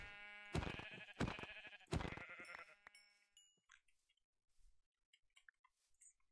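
Sheep in the Minecraft video game bleat three times in quick succession, loud and close, followed by scattered faint clicks and small game sounds with no talking.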